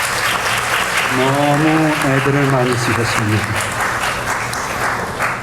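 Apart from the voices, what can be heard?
audience applause for the parents at a wedding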